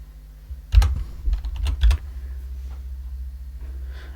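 Computer keyboard keys tapped in a short quick burst, a handful of soft clicks close by over a low steady hum, then quiet.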